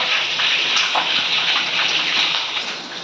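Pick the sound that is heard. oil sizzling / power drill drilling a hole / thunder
oil sizzling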